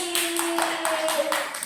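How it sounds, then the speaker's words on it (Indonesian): A classroom of students claps for a classmate in a steady rhythmic beat of about a handful of even claps, with a sustained vocal tone running underneath. "Kita beri tepuk tangan buat Kiki."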